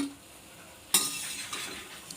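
Fried coconut fritters are lifted from hot oil with a single sharp metallic clink, followed by faint sizzling and a lighter tap, all quiet and close with no voices.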